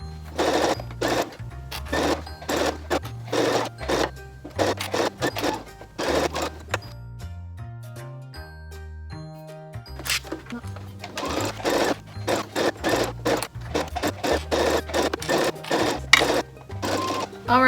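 A sewing machine stitches a 3/8 inch seam joining a bucket hat brim to the hat band, running in repeated rhythmic bursts with short pauses and a slow stretch of individual stitches partway through.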